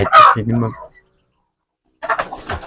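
Chickens on a cattle farm clucking close by, a couple of short bursts separated by a full second of silence.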